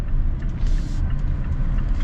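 A 2024 Mazda CX-5 accelerates, with a steady low engine and road rumble that fills the cabin, even and continuous throughout, with no one talking.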